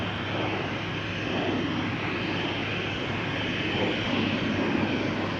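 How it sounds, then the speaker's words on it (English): Constant jet engine drone from an Embraer 190 at Amsterdam Schiphol Airport, a dense, even rumble at moderate distance that barely changes over a few seconds, with no voices. "Embraer 190."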